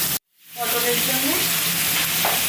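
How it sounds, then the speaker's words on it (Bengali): Potato pieces fry with turmeric and salt in hot oil, a steady, close, loud sizzle that briefly cuts out at the start before running on evenly. "আলুটা ভাজা হচ্ছে, একটু হলুদ আর একটু নুন দিয়ে দেবো।"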